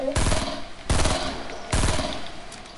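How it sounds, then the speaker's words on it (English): Gunfire in the video game Fortnite: three loud, sharp shots spaced roughly a second apart, each with a short ringing tail, with no talk over them. "I try shooting him down."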